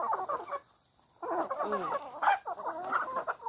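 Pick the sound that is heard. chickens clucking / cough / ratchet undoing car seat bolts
chickens clucking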